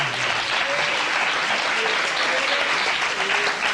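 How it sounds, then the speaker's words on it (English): Dense, steady applause from a studio audience at a televised quiz show, continuous broadband clapping with a faint voice or two briefly audible underneath. "Give them a round of applause"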